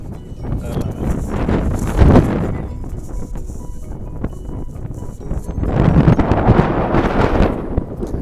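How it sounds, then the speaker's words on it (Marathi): Cold wind in Leh, Ladakh buffets the microphone in heavy, rumbling gusts, swelling loud around the start and again toward the end, with no talking. "वारं सुटलंय"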